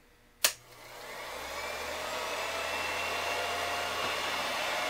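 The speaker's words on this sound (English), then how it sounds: "That starts the motor" A Revere Model 85 vintage 8mm film projector motor switches on with a sharp click, then hums and whirs steadily, its pitch and volume climbing slightly as it settles into a continuous near drone.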